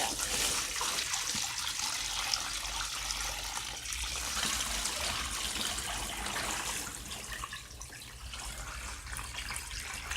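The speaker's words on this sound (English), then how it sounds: "I'm going to pour the tannin solution." Tannin solution poured over red fox, raccoon, mink, muskrat and skunk furs, a steady close splashing, trickling pour of liquid running without pause at moderate loudness.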